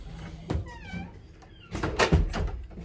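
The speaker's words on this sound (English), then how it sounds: "close my door." A door is closed indoors, giving a couple of dull thunks with a faint squeak, heard near and fairly quiet against a room with some background voice.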